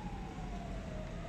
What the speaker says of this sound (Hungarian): Érkezett a rendőrautó.